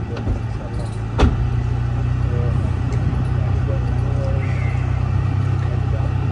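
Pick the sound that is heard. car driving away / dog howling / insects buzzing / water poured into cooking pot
car driving away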